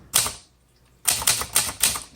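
Keys clack on a 1958 Cole Steel travel typewriter: a quick burst, a pause, then a run of several sharp, close strikes.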